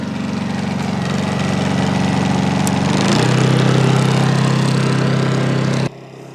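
A Honda 2200i portable inverter generator idles at low speed, a steady mid-distance engine drone with a humming tone that shifts and rises partway through, then cuts off abruptly near the end.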